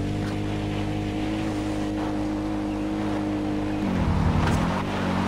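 A car in the video game Far Cry 4 drives with a steady engine drone that swells into revving near the end, heard alone with no talk.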